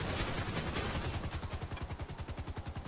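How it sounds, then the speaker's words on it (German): A helicopter in GTA Online chops loudly with a rapid, steady rotor pulse that grows more distinct as it goes, alone with no talk. "Der Hubschrauber."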